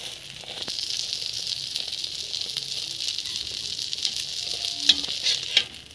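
Egg and roti frying together on a hot pan for a street-style egg roll, a steady close sizzle throughout with a few small crackles and utensil taps near the end.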